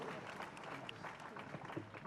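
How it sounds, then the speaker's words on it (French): Guests at a civil wedding ceremony clap for a couple, a faint, steady patter of applause from a seated crowd mixed with murmuring voices. "Applaudissez pour ce couple."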